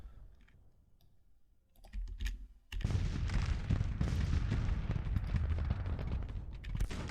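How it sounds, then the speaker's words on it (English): Artillery batteries fire in the Grand Tactician Civil War strategy game: quiet clicks at first, then from about three seconds a dense, steady rumble of cannon shots and crackling battle noise. "Yeah, Hooger's guns are firing"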